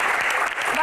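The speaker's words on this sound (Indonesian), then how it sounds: "Tepuk tangan." A brief burst of audience applause at a Q&A event, dense clapping heard only for a moment as a voice begins to rise at the end.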